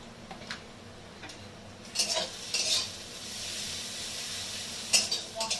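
Chili and cumin powder masala fries for a Bengali pabda fish jhal. A faint background sizzle is punctuated by a few close scraping stir strokes, with no voices.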